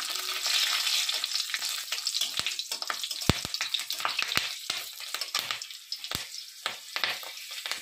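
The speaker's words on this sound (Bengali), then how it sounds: "রসুনটা তেলের উপর ভালোভাবে লাল করে ভেজে নেব।" Close, busy sizzling and crackling of garlic and whole green chilies frying in oil, interrupted by several sharp clicks and scrapes of stirring, with no talking.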